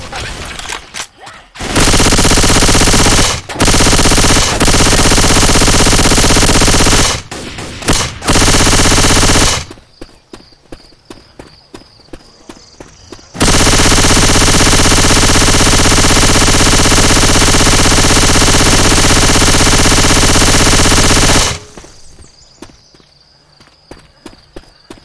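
Heavy automatic gunfire in a Plants vs Zombies mod of Left 4 Dead 2, long sustained loud bursts with brief gaps, interrupted by quieter stretches of footsteps and clatter.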